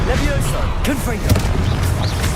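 A Confringo blasting curse explodes in Hogwarts Legacy with a loud boom among overlapping spell effects, whooshes and impacts, while a voice calls out under the battle noise.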